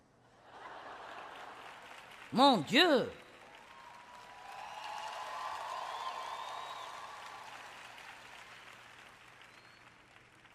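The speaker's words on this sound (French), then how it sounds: "Je suis contente pour cet applaudissement de Mickey Mouse." A church audience breaks into soft, sustained applause during a sermon, the clapping rising and lingering at a distance after a brief exclaimed voice.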